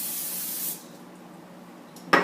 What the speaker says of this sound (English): First you have to spray the cookie sheet with Pam.